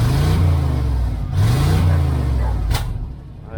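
The engine of a 1994 GMC Stepside pickup truck runs close by with a low, uneven idle that swells a couple of times as it revs. A short sharp noise comes near the end, and brief talk is faintly heard.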